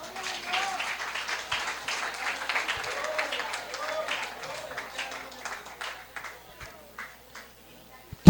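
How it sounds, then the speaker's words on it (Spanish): A church congregation claps at a sermon, steady applause of moderate loudness that runs for several seconds and gradually thins to a few scattered claps, with some crowd voices mixed in. "Dale un aplauso al Señor."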